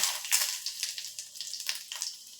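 Mustard seeds, cumin and curry leaves crackle and spit in hot oil, a dense run of sharp pops and sizzles close by with no talking.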